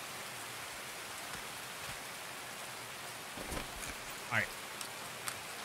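Steady rain hiss in the Escape From Tarkov game, a constant even wash with a few faint thumps, while a player speaks briefly over it.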